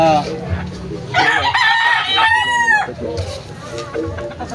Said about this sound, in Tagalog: Saka ito yung mga brood hen.